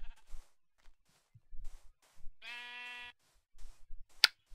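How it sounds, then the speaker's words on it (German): Sheep bleating in Minecraft: one clear, harmonic bleat lasting under a second, loud and isolated, between quiet stretches with a short sharp click afterward. "Einfach mal gegen das Schaf schlagen und sofort kommt die Wolle runter."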